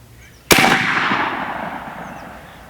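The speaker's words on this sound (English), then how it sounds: "That was so much louder than any shot that we've had so far" A single loud, sharp airgun shot fired at a chronograph cracks out close by, its report tailing off into a lingering echo across a quiet background.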